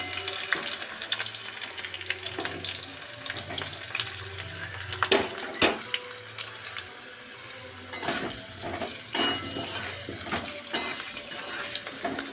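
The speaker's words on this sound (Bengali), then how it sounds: "একটু লাল লাল করে ভেজে নিতে হবে।" Frying in a pan while cooking egg curry, a steady crackling sizzle with scattered louder pops and the scrape of stirring running throughout at moderate, close level, with no talking.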